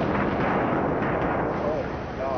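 A huge explosion more than a mile away arrives as a loud, sustained broadband roar and rumble that fills the whole clip without letting up, with no voices over it.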